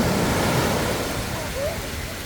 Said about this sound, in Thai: คลื่นก็ตบเอาอะค่ะ